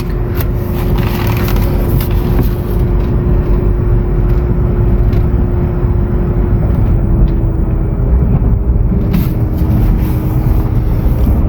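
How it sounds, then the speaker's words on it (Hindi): A Renault Triber being driven, heard as a constant engine and road drone with a low steady hum, even in level throughout, without any talking. "अब जैसे मैं इस गाड़ी को ड्राइव करूँगा"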